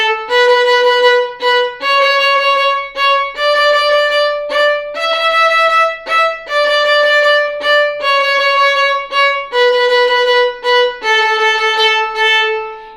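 A violin plays the first Twinkle variation rhythm as a fourth-finger fingering exercise, clear bowed notes in short repeated patterns stepping across pitches, close and solo with no talking.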